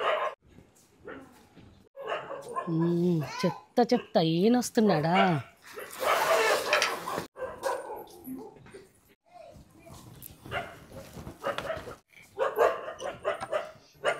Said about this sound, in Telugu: అబ్బా, కుక్కలేంటి ఇలా అరుస్తున్నాయి?